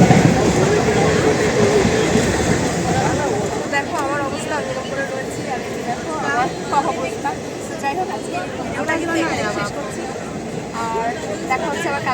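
Inside a crowded moving passenger train, a continuous rumble and clatter of rolling carriages plays under a speaking voice, with chatter from other passengers in the background.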